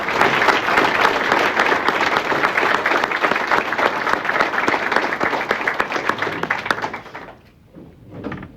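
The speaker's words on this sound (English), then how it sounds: "let's give all these guys another round of applause" Audience applause at a recognition ceremony, a dense, loud burst of clapping sustained for about seven seconds before tapering off abruptly into quiet room noise with a faint murmur.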